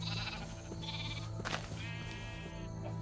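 A sheep in the Minecraft video game bleats a few times, clear and steady, over a constant background hum with no talking.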